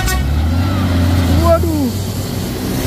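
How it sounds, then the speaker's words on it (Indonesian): A Hino trailer truck labors uphill on the Bukit Kodok hill road, its engine a deep, steady drone with a brief higher tone partway through, while people talk over it. "Habis napas trailernya ini. Trailer Hino."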